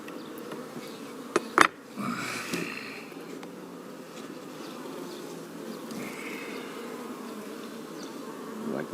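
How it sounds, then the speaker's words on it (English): Honey bees buzz around an open top bar hive during an inspection, a steady close hum with a couple of sharp knocks early on before the buzzing settles into a continuous drone. "I'm going to upset more bees."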